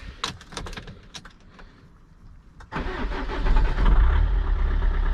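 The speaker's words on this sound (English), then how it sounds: "Now we're gonna try to start the car, and to see if a new starter works or not." A Peugeot 407 with the 2.0 HDi diesel engine, fitted with a new starter motor, cranks briefly and catches. It then settles into a loud, steady, close idle with no talking.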